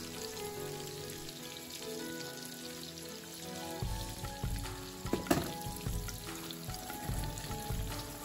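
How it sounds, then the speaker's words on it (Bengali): Eggplant slices coated in egg sizzle steadily in hot oil, a close, continuous crackle that grows busier and louder partway through, with no voices. "এইভাবে যদি বেগুনটা ভাজা হয় তাহলে বেগুনের তেল খুব কম শুষে নেয়"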